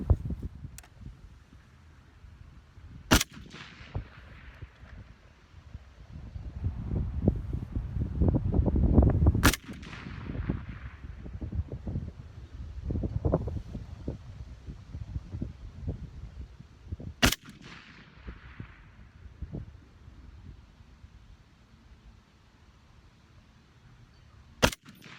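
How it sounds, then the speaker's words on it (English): An FN SCAR 17S rifle fires Federal Premium .308 Winchester match rounds outdoors, four sharp, loud, widely spaced single shots, each ringing briefly, with wind and handling rustle between them. "So let's put a few rounds downrange"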